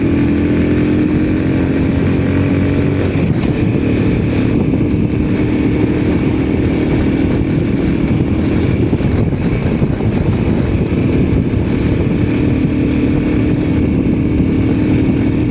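A Honda C90 fitted with a Lifan 110 engine pulls away in third gear, its loud, steady engine drone rising gradually under constant wind rush from the ride on wet, cold roads.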